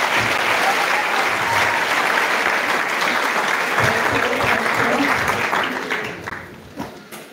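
An audience at a school dedication service applauds with sustained, dense hand clapping that carries on loudly before tapering off near the end.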